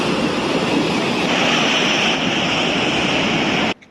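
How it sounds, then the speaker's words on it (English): Big waves of a rough, angry sea roar and crash continuously onto a beach at Giardini Naxos in Sicily, a loud, close wash of surf that cuts off abruptly at the end. "Oh my gosh, I haven't seen waves this big in a while."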